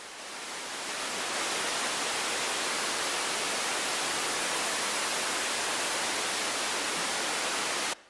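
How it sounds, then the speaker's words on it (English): Broadband white noise from a signal generator fades up over the first second, then holds as a steady, loud, featureless hiss before stopping abruptly. "So this is what a white noise is."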